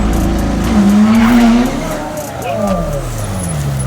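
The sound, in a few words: twin turbo McLaren 720S sports car engine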